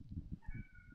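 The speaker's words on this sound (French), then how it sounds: "Le chat." A cat gives a short, faint meow, with two tonal rising notes over low background noise.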